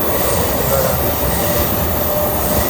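A Mumbai local train runs along the track, with a constant loud rumble and metallic rattle of wheels and carriages heard from inside, steady and close throughout.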